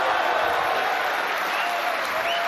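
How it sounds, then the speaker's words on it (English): A snooker crowd in Turkey applauds and cheers during a 147 break, a dense, even wash of clapping filling the room without pause. "Look at the crowd, they're going wild."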